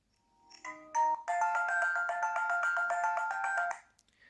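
A Moto G2 smartphone ringtone played at maximum volume: a few rising melodic notes, then a loud, bright repeating electronic chime pattern that holds steady for a couple of seconds and stops abruptly, close and with no talk.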